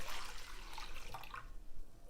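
Liquid poured from a can into a pot while making beef stroganoff, a steady close watery splash and trickle lasting about two seconds before tapering off.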